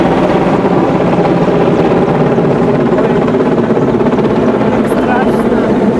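Helicopter-like aircraft passing right overhead, a loud, steady, dense roar with a throbbing rotor beat that fills the whole clip while a person talks underneath.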